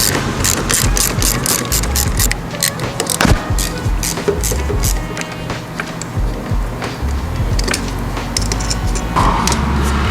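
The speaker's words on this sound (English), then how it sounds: "I'm gonna go ahead and just disconnect the battery" Close, loud ratchet clicking in rapid bursts as a car battery terminal is loosened for disconnection before fitting new spark plugs, with steady clatter throughout and no talk.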